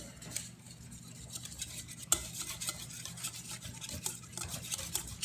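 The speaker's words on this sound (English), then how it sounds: "now we're just going to mix this together" A chocolate pudding mixture with vanilla is stirred in a pot, giving steady soft scraping and swishing with faint utensil clinks and one sharper knock near the middle, continuous and close.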